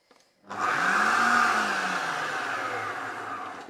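A Magimix Cook Expert food processor chopping coriander stems starts abruptly and runs as a loud, steady motor whir with a rising then settling pitch, close by and alone.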